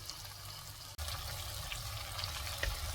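Onions sauté in a pan while cooking chicken fry, a soft, even sizzle continuing steadily with a brief dropout near the start and faint stirring sounds.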